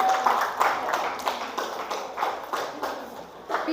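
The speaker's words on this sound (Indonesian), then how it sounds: "Tepuk tangan untuk kelompoknya Mas Vicky" Scattered clapping from a small group honoring a presenting team in a classroom-style session, a light, uneven patter of hands rising and falling throughout without a clear peak.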